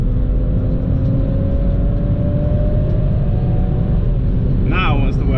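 A BMW 335i with the twin-turbo N54 engine under full throttle, a loud steady drone with a slowly rising tone, a wastegate fault on the car, and a voice talking over it near the end.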